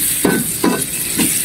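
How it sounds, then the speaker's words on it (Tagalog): Shallots fry to a crisp in hot oil, a close, constant sizzle broken by three quick stirring scrapes in the pan. "So, hayaan natin maging crispy po yung shallots."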